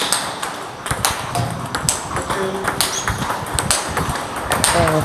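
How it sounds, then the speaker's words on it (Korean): A table tennis forehand topspin drive rally played with XIOM Omega7 China rubber, made up of rapid crisp ball-on-rubber pings and table bounces in an irregular quick rhythm. The strokes sit over a busy, reverberant hall background with faint voices. "포핸드 탑스핀 드라이브."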